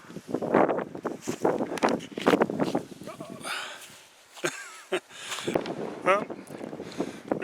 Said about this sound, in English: Lots of wind.